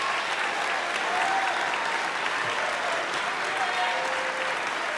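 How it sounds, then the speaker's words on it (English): A concert audience at a musical instrument competition final claps for student winners coming on stage; even, dense applause fills the whole stretch at steady loudness. "Can we give them a big round of applause?"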